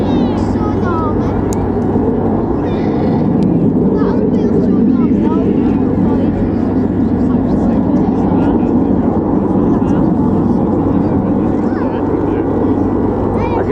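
Red Arrows RAF aerobatic jets fly in formation at an airshow, a continuous roaring drone overhead, partly masked by a person talking throughout.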